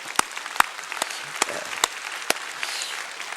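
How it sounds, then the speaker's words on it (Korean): A congregation at a Sunday church worship service applauds, a steady wash of clapping with a few sharper, louder claps standing out, moderately distant in a large room. "우리 박수 한번 하겠습니다"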